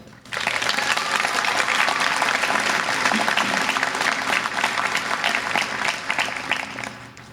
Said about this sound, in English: how about a round of applause for everyone here and your support today?